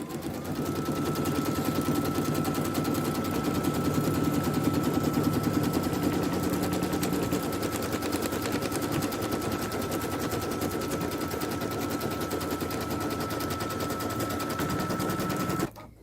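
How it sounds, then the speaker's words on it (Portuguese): An embroidery machine sews a dense satin-stitch border along the side of a plush fabric pocket. It runs as a rapid, continuous mechanical chatter with a steady whine, close and unbroken, then stops abruptly at the end. "a máquina agora vai fazer o bordadinho cheio por toda a lateral do meu bolsinho"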